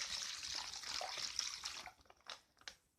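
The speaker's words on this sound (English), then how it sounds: "what I'm going to do is pour the water" Water is poured into a container for mixing plaster, giving a steady splashing stream that tapers off into a few last drips and trickles, close and fairly quiet.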